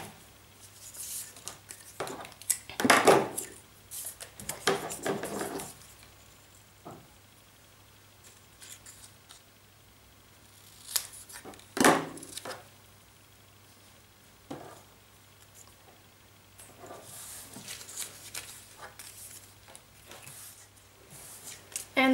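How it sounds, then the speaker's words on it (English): Scissors cut strips of paper into banners, giving several bursts of close, crisp snipping separated by quieter pauses as the paper is handled. "I'm just going to start cutting out banners from these strips of paper."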